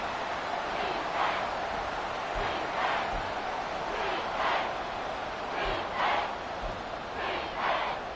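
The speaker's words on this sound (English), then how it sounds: "this crowd trying to force a false start here" A football stadium crowd roars continuously, with repeated surging waves of cheering and chanting from the stands, loud and steady throughout.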